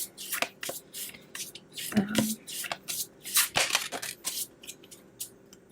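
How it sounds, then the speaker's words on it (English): A deck of Shaman Dream Oracle cards is shuffled by hand at close range, producing repeated crisp riffling bursts and slaps in an irregular rhythm, with a voice speaking softly between them. "I got these Shaman Dream Oracle cards, so I want to pull one"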